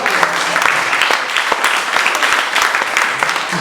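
A church congregation claps together in praise of the Lord, a brisk, fairly loud burst of many hands with a loose, uneven rhythm, close and lively, with a few voices blending in underneath.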